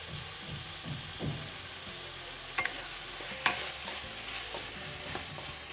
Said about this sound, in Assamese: আমি এয়া ল' ফ্লেমত লৈ পেলাই ভাজি আছোঁ।